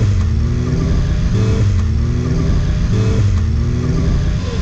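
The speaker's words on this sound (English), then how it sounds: "How do you like the exhaust note on that Brock?" A Suzuki Katana sport bike with a Brock exhaust runs loud and close, its engine note rising and falling through repeated revs in a smooth, even tone.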